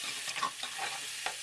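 A spoon stirs a lasagna mixture in a pan, soft scraping and clinking strokes over a faint steady sizzle, close but quiet.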